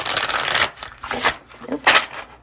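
Tarot cards being shuffled by hand, close riffling bursts in three or four uneven rounds, no speech.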